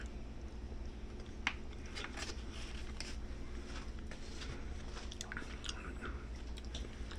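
Brown rice and quinoa rotini pasta with meat marinara is chewed close to the microphone, with soft, quiet, irregular squishy bites and smacks repeating throughout.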